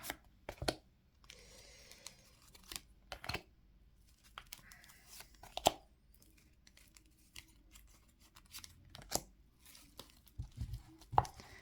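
Tarot de Marseille cards are shuffled, flipped and laid down on a table, making soft scattered rustles and sharp clicking snaps, close and quiet, with no talking.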